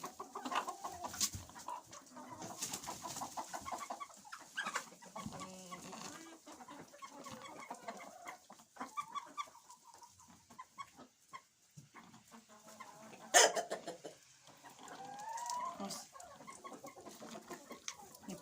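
Hens clucking and scratching about inside a coop on a day of blowing snow and rain, with steady soft clucks and a rooster joining in, some calls close and others further off, plus one sharper loud squawk partway through.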